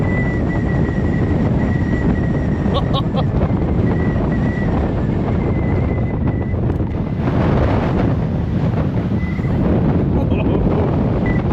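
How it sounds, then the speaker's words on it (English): Strong wind on a Welsh hillside, a loud continuous roar buffeting the microphone with gusty surges throughout, and a voice heard briefly over it. "Alright guys, now here it is windy."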